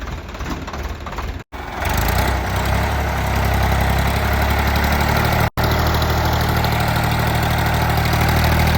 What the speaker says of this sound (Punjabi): ਹੁਣ ਬਾਈ ਨੇ ਟਰੈਕਟਰ ਲਿਆ 744